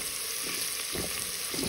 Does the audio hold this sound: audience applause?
no